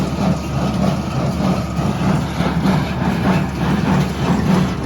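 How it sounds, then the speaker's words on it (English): A heavy tractor engine idles and chugs steadily in a low, continuous rumble with a faint rhythmic pulse, close by and without any talking, while baling hay. "what better way to get broke in on driving a tractor than to be running baling hay"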